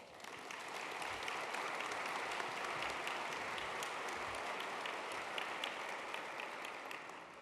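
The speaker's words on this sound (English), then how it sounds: "let's all give them a big round of applause" A conference audience at a museum association's general session applauds in a dense, even wash of clapping that stays steady and somewhat distant before tapering off.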